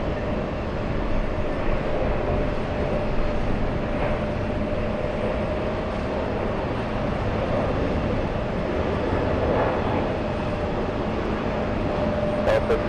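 A Delta Boeing 767 lines up for takeoff at JFK, its distant jet engines giving a steady broadband rumble and whine that holds evenly throughout, with no talk heard.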